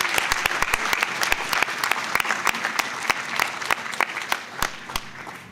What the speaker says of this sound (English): can we just get one more round of applause for all of our award winners